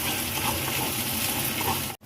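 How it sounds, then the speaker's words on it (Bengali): A spice paste (masala) is sautéed in a pan for a malai egg curry with a continuous, fairly loud sizzling hiss that stays steady, then cuts out sharply just before the end. "আবার মশলা কষানো চলছে।"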